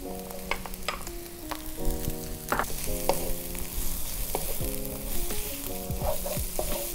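Green beans sautéed in a pan for pancit canton guisado, with a continuous loud sizzle and frequent scraping stir sounds under steady background music.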